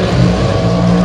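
A Dodge Hemi Shootout drag race car runs hard down the racetrack, its engine a loud, sustained, close roar throughout the brief moment.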